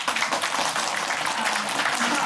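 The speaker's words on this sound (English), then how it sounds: "Please let's give them another round of applause." A crowd at a Human Rights Day commemoration in Washington applauds steadily, a dense wash of clapping that stays even and sustained throughout.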